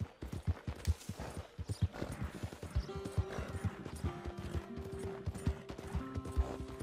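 In the video game Red Dead Redemption 2, a horse's hooves clip-clop in a steady, brisk rhythm, close and clear, with faint tonal game sounds joining partway through.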